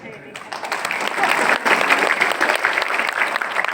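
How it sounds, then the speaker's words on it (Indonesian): Religious family talk audience clapping in unison, a dense wash of applause that swells quickly after a brief quiet start and holds steady, loud and close, until the end. "Di sini boleh tepuk tangan, tapi harus berjamaah."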